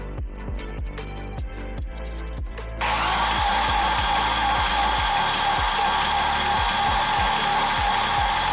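Ratchet wrench cranking the engine over by hand during a 1.8T timing belt install, a series of sharp regular clicks at about two per second, close and distinct, with the background noise jumping louder partway through.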